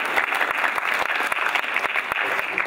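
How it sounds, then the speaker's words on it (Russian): Audience at a KVN comedy contest stage show claps steadily for a contestant, a dense, even applause filling under three seconds with no talk. "Давайте похлопаем Семену."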